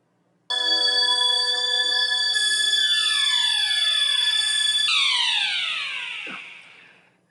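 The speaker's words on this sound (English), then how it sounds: "Is that the alarm?" An electronic alarm rings continuously for several seconds, a loud steady multi-tone buzz that shifts pitch partway through, then sweeps downward and fades out at the end, with no talking.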